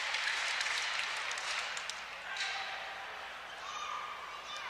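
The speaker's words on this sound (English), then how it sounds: "Indiana Tech fans with sarcastic applause" Scattered applause from Indiana Tech fans at a 1989 men's basketball game, a faint, thin wash of clapping in a gym that swells and fades.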